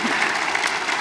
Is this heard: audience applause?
yes